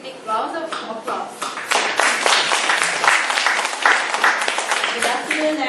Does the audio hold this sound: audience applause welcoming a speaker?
yes